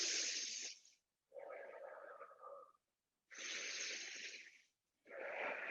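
Slow, deep yoga breathing during a held pose, long airy inhales and exhales alternating with short pauses between them, close and clear with no talking.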